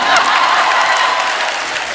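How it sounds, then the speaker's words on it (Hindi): Studio audience applause at a comedy talk show, a steady wash of clapping from a crowd that fades slightly over two seconds, with no voices standing out. "तालियां बजाना।"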